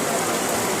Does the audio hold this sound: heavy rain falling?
yes